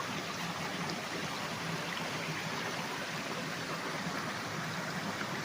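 A small stream with a little waterfall on a farm in Liliw, Laguna, with water splashing and trickling in a soft, steady, even hiss and no voices.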